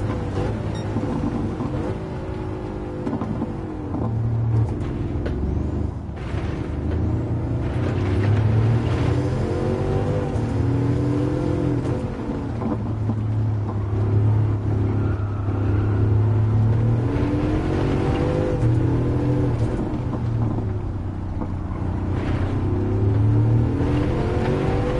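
Bugatti Chiron '16 hypercar engine racing at Monza in Gran Turismo 7, a steady loud low drone with rising and falling revs through gear changes, continuous for the whole stretch with no talk.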